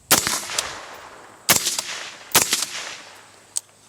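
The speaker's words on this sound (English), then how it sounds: "we're going to test fire this thing" A suppressed firearm fitted with a Kryon suppressor shield being test fired outdoors: three loud, sharp reports about a second apart, each with a short rumbling decay, followed by a smaller metallic tick.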